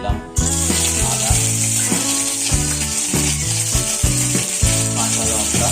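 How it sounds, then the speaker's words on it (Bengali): Cinnamon and ginger sizzle in hot oil while cooking a vegetable masala chop. The frying hiss is steady and close, with music playing underneath. "তেল গরম হয়ে যাওয়ার পর তাতে আমি দিয়ে দিচ্ছি দারচিনি, তারপরে দিলাম আদা"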